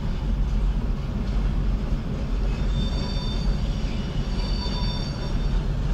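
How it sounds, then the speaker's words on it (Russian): A freight train in Uzbekistan rumbles past steadily, a constant heavy roar of rolling wheels with faint metallic squeals, no break in the noise. "а поезд едет в сторону Туркмении сейчас"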